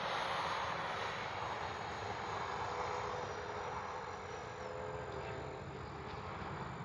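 A Freewing 70mm Vulcan RC jet with electric ducted fans flying low, a continuous loud whooshing roar that shifts slightly in pitch as it passes, with no talk.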